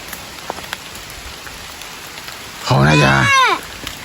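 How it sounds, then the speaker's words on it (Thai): Heavy rain pours down outdoors in a steady, close hiss that fills the whole stretch, with a voice speaking briefly partway through. "ฝนเนี่ยกำลังตกออกมา หนักขึ้นเรื่อยๆ นะครับ"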